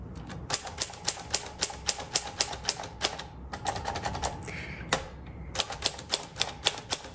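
A Smith Corona Silent typewriter set to a small font clacks away in quick bursts of keystrokes, with brief pauses and a carriage sound in between, close and crisp with no speech.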